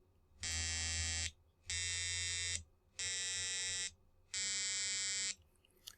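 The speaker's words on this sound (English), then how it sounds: "I'm playing 4 notes at the same time." Four simultaneous square-wave tones from timer interrupts on a microcontroller's output pins sound as a harsh, buzzy chord. It comes in four loud, steady bursts of about one second each, separated by short silent gaps, with no talking.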